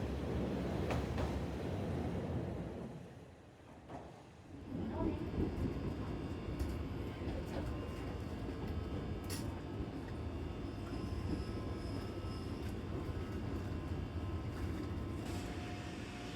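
An Eizan Line train in the mountains around Kyoto crosses a bridge, giving a steady low rumble and rolling wheel noise that dips briefly and then carries on for the rest of the stretch, with faint squeals above it.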